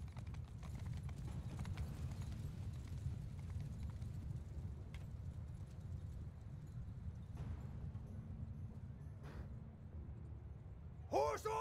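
Steady low rumble of many horses galloping together in a Mount & Blade II: Bannerlord battle, a constant thundering drum with faint clatter; a brief shout-like sound rises at the very end.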